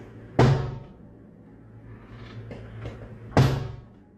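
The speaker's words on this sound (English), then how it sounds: "the door behind him starts slamming on its own" A door slams shut twice, about three seconds apart, each a loud close bang with a short ringing tail, and faint knocks and rattles fall between the two.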